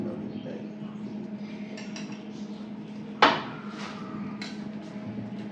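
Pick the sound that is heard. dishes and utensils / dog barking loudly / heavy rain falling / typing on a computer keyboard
dishes and utensils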